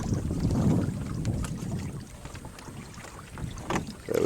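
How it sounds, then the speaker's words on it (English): A junk-rigged proa sailboat moving through water, with a steady rush of water and wind noise along the hull that swells and eases, close to the microphone and without talk. "Junk rig sailing"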